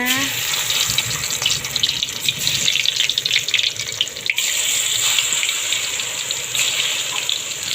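Loud, continuous sizzling and crackling of batter-coated butterfly pea flowers frying in hot oil in a pan, hissing steadily with bursts of spattering throughout.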